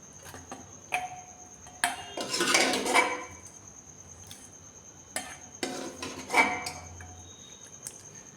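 Aloo baingan sabzi is spooned into a deep bowl, with a metal spoon clinking and scraping against the dish in several short bursts, close and fairly clear, with no voices.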